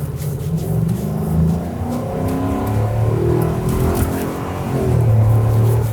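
A 2024 Ford F250 Lariat three-quarter-ton 4x4 with a 7.3-liter gas V8 accelerating, its loud steady engine rumble rising in pitch through the gears from inside the cab, with no voices.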